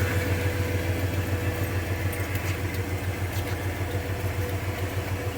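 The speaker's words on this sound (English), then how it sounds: "he's going to focus on the engine while I can see about trying to turn it on" A 1993 Toyota Tercel engine being revived after sitting, heard running at a steady rough idle, close and continuous low rumble with a rhythmic pulse, no voices.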